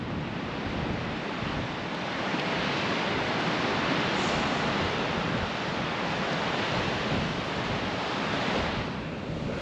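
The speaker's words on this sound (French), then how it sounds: "Il y a un vent assez fort" Continuous strong wind roaring across the microphone on a Normandy D-Day landing beach, a broad rushing noise with faint surf underneath and no voices.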